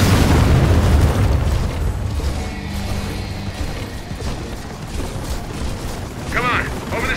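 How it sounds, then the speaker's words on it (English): Heavy booming blasts from an airstrike in the video game Gears of War 4, a dense low rumble opening loud and rolling on beneath mechanical clatter, with a short whooshing burst near the end. "I'm requesting an airstrike."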